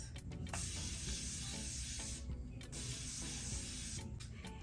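Morphe Continuous setting spray is misted onto a face in a few close, breathy hissing bursts separated by short pauses.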